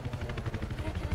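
A helicopter approaches in the video game Battlefield 4, a short, rapid rhythmic rotor thump, moderately loud and close, in a clip lasting only about a second.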